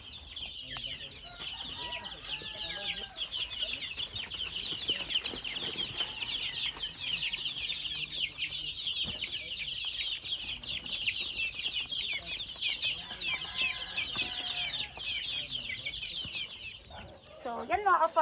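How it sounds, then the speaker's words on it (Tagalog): Chicks on a chicken farm keep up a dense, continuous high peeping chorus at moderate volume, with occasional faint voices and rustling beneath. "ipapakita lang natin yung ating mga sisiw kasi ma-stress i tong mga to"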